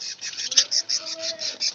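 Budgie chicks calling from inside a nest box, a rapid series of short, high, raspy chirps repeating in a quick pulsing rhythm, close and fairly loud, with no talk.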